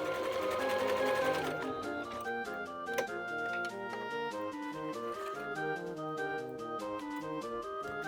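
A home sewing machine, freshly repaired after cleaning and oiling, runs steadily with a smooth motor hum and a quick, even needle rhythm that continues throughout without pause.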